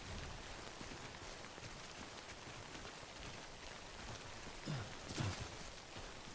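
Steady rainfall in the video game Death Stranding, a soft broadband hiss of drops on surfaces that holds evenly throughout, with a couple of faint low thumps near the end.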